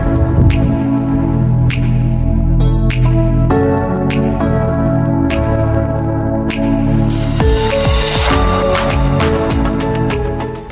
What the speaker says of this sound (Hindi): बारिश आपने देख ली है, ये रिमझिम आपको इस बारिश के कतरे पानी पे वाज़ेह दिखाई दे रहे हैं।